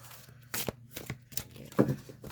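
A deck of Renaissance tarot cards is shuffled by hand in a quiet room, giving a few short riffling and slapping bursts spaced unevenly.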